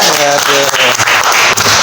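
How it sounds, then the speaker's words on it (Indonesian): Podcast audience at SMA IT Tenjolaya school breaks into loud, dense applause that fills the short stretch, with a voice briefly audible at the start. "Tepuk tangan ya."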